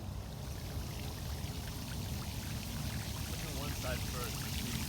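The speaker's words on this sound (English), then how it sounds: "how much water is going to come out of here?" Water pouring out of a pipe into a newly built backyard koi pond, a steady broadband rush that continues throughout with someone talking over it.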